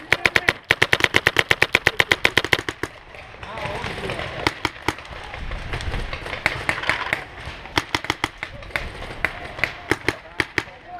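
Paintball markers firing during a paintball game, rapid bursts of sharp pops in fast volleys that pause and resume, with shouting voices and movement in between.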